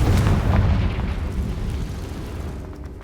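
A Confringo fire spell explosion in the Hogwarts Legacy video game erupts as a loud, dense rumbling boom that fills the clip and slowly fades, with no talking.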